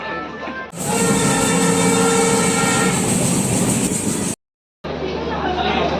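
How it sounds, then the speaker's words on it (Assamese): A train rumbles and clatters loudly close by, arriving at Guwahati railway station, its horn sounding over the rolling noise, with a brief dropout to silence near the end. "এইখন আমি অহা ট্ৰেইনখন"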